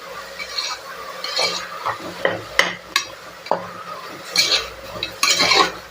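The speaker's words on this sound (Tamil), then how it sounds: "இந்த ரெண்டு தக்காளி ரெண்டு பெரிய தக்காளி உப்பு போட்டு நல்லா வதக்கி விட்டுக்கலாம்" Two large tomatoes with salt sautéed in a pan for egg biryani: intermittent scraping and tapping of a spoon against metal over a soft sizzle, close up, with no voices.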